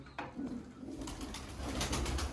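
Pigeon cooing from a prized red-eyed breeder bird, a few soft repeated coos close by over a steady background hum, no voices.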